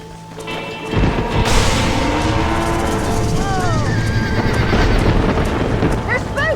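In Red Dead Redemption, spooked horses stampede with loud, pounding hooves and repeated shrill whinnies over a rumbling storm-like din, with shouting voices mixed in.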